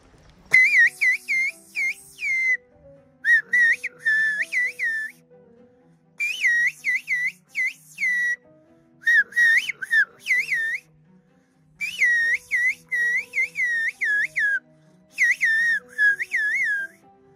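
Melodic whistling of a tune in several phrases separated by short pauses, clear and close, with faint low background notes underneath, in a Turkish village where people communicate by whistling.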